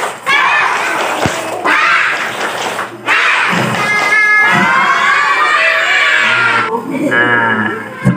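At an Isra Miraj gathering in an Islamic school, a crowd of children performs a loud group spirit-clap chant, shouting and singing in unison with rhythmic clapping, near and continuous.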